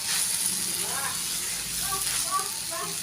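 Fried potatoes stirred into a pan for a vegetarian banana-flower dish give a soft, steady sizzle beneath someone speaking throughout.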